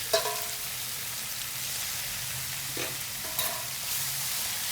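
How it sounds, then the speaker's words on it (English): Beef steak end cuts stir frying with garlic in a pan for an oyster sauce stir fry, a steady soft sizzle with a few scraping stirs, fairly quiet and with no talk. "now we get the beef there. Stir fry this to goodness"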